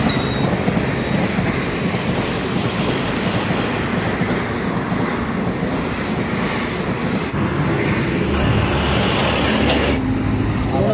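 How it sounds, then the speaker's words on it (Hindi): A train rolls past a railway crossing, a steady loud rumble with wagon clatter and wind buffeting the microphone throughout, with no clear talk. "एक बार ट्रेन आ रही है, मैं ट्रेन का सीन ले लेता हूँ एक बार।"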